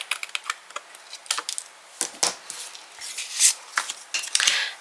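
Trimming the end of card-making paper against a straight edge: a string of crisp, close clicks and slicing snips, irregular and fairly loud, with no voices.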